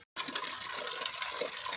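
Water runs steadily at a temple in Nara, a continuous splashing gush that starts abruptly after a brief silence and stays close and fairly loud.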